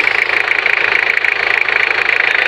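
Mitsubishi 4M40 diesel engine running after a top overhaul with a new cylinder head gasket, idling steadily with a fast, even clatter, close and loud throughout.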